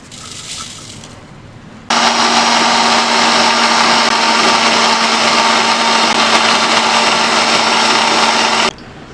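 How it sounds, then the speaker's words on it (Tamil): A blender grinds kiwi with sugar for homemade popsicles, a steady loud whirring hum that starts abruptly after a quiet moment and runs continuously for about seven seconds before cutting off. "அடுத்தது கிவி வந்து நம்ம அரைச்சிக்கலாம்"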